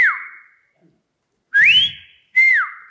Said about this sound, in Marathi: हा पिट्टा नावाचा पक्षी आपला आहे नेहमीचा, तर तो एक डबल व्हिसल म्हणतात तशी तो मारतो.